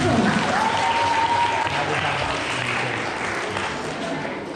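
An audience at a dance camp in Panagyurishte gives sustained applause that slowly fades, with a voice briefly speaking at the start.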